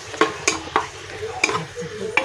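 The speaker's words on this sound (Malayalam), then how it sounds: "പച്ചമണം മാറുന്നത് വരെ സിമ്മിൽ വെച്ചിട്ട് നല്ല പോലെ വഴറ്റി കൊടുക്കുക." Spices and turmeric powder sautéing slowly in a pan on low flame for Buhari rice, with a soft steady sizzle broken by several sharp clicks of a spoon scraping and tapping the pan.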